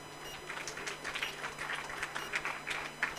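Audience applause at a school Model United Nations grand finale, a moderate steady patter of many hands clapping throughout, with no one speaking over it.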